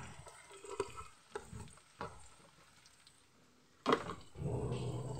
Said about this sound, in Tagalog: Gisa ang bawang sibuyas. Lalagay na ang giniling na lomo at saka konting atsal.